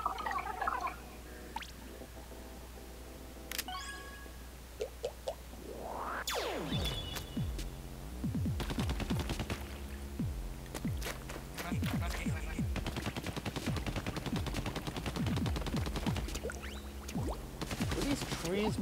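Rapid weapon fire in Splatoon's Octo Expansion, aimed at a dummy target: dense bursts of sharp, splattering shots run steadily over continuous game background music after a short quieter lead-in.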